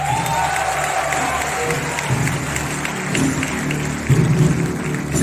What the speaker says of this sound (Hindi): श्री राम के लिए तालियां बजा सकते हैं आप।